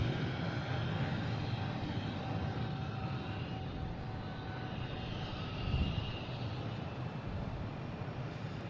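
A JetBlue Airbus A220 jet airliner at Boston Logan airport gives a steady, broad engine rumble and hiss that holds evenly throughout, moderately distant and without voices.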